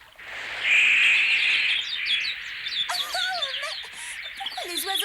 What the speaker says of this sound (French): Les oiseaux s'en vont.